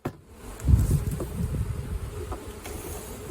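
Honey bees buzzing around an open hive during queen release, a close, uneven hum of many wings with scattered louder passes and light handling clatter, no speech.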